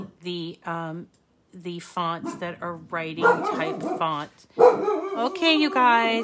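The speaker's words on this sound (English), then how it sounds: "Sorry about the dog." A household dog barks in a few short bursts near the microphone while a person keeps talking over it.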